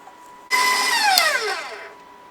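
Electric mixer running on cookie dough for pecan snowball cookies, a loud close motor whir that starts abruptly, holds, then winds down with falling pitch, no voices.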